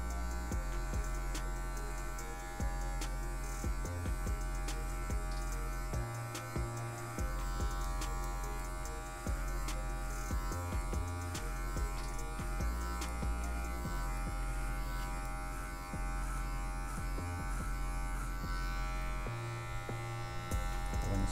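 Electric hair clippers fitted with a half guard buzz continuously while cutting afro hair for a fade. The hum is steady and close, with small changes in pitch and rhythm as the blades move through the hair.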